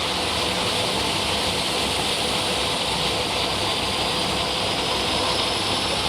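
A GM-designed engine, the center unit of a multi-engine pulling tractor at a tractor pull, roars steadily and loudly as it comes up to speed, a dense unbroken drone with no voices.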